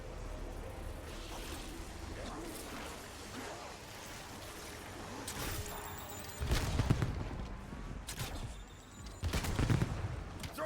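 Video game gunfire from a big bullet gun, with bursts of shots over a steady rumbling battle backdrop, heavier blasts around the middle and near the end, voices faintly mixed in.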